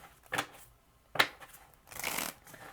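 Three quick bursts of tarot cards being riffled and shuffled, close and fairly quiet, separated by short pauses.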